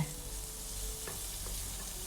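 Pork tenderloin stir-fried in a Teflon pan on an induction stove, a continuous quiet sizzle with a few soft scraping stirs and clicks from the spatula.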